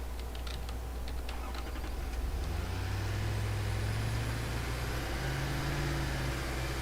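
A Satisfactory truck rumbles along with a low engine drone that shifts pitch as it drives, accompanied by light ticking and clicking near the start, no voices.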